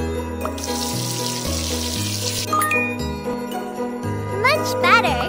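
Water runs to rinse a face in a kids' makeover and spa game, a short hissing splash over bouncy, steady game music with chiming sparkle effects near the end.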